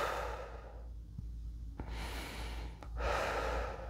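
Slow, deep breathing during an exercise done lying down, heard up close: a long audible exhale, a quiet pause, then a strong drawn-in inhale and another full breath, with no talking.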